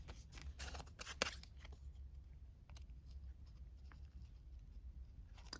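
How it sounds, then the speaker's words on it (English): Scissors snipping through thick paper while crafting a junk journal page, with a few sharp close cuts early on, then quieter scraping over a steady low background hum. "Even my scissors don't want to cut through this."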